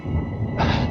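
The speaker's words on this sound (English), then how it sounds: "there is a train coming right now" Train rolling past at Tirano in winter, home of the Bernina Express, a steady low rumble that brightens into a broader wheel-and-rail hiss partway through, fairly loud and close, with no talking.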